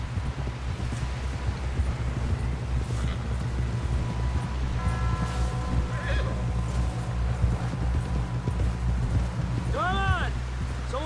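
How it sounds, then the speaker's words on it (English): Rapid galloping hoofbeats with a horse whinnying near the end in Red Dead Redemption 2, over a rushing game soundtrack while people shout and talk. "Someone help John down off this horse."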